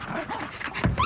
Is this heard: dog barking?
yes